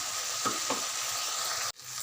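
A spoon stirs peanut and coconut powder curry frying in a pan over medium flame, giving a steady sizzle with two scraping strokes before a sudden cut.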